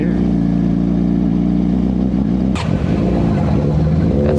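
A car engine revs loudly and close by, a steady throaty drone that swells and shifts pitch partway through, with a sharp burst of noise near the middle, heard at a gas station with a motorcycle nearby.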